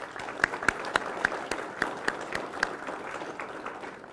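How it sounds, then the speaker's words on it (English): Applause at a law enforcement academy graduation ceremony in Northern Nevada, a moderate spread of claps with a few sharp individual ones standing out, steady for about three seconds before thinning. "please give them a round of applause"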